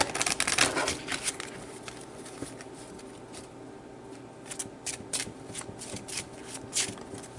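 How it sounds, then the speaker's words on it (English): Tarot cards, only the 22 major arcana, are shuffled by hand in quick, crisp bursts of riffling and flicking, close and fairly quiet, with short pauses between. "Hard to shuffle just the major arcanas, only 22 of them."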